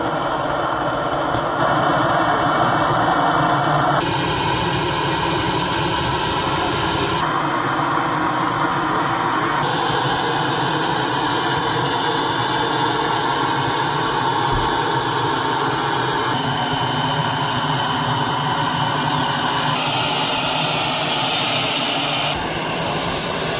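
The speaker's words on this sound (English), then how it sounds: "It has a functional gas turbine engine and hydraulic suspension." Gas turbine engine of a 1:5 scale RC S-Tank running at a large scale RC tank meet, a loud steady jet-like whine and roar that holds throughout with shifting high tones and no talk.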